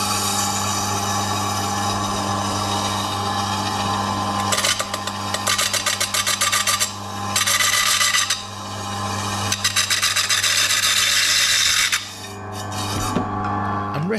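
An electric meat slicer cuts a frozen block of beef for jerky, its motor humming steadily while the blade rasps through the hard meat in repeated scraping bursts, loud and close, with brief pauses between passes.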